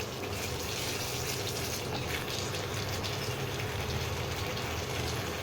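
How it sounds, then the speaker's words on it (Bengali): Water pouring into potato curry simmering in a pan, a continuous dense gushing rush that holds steady and close for several seconds with no speech. "এবারে আমি জল দিয়ে দিচ্ছি।"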